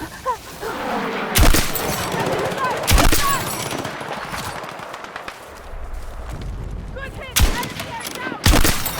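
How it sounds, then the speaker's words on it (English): Q minifix 5.56 bolt-action rifle in Battlefield 6 fires five single loud, sharp shots spaced irregularly over a bed of busy in-game ambience and background chatter. "This is the Q minifix, one of the new weapons to appear in the new season. 556 bolt action."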